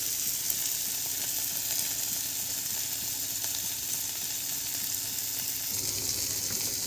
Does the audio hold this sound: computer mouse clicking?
no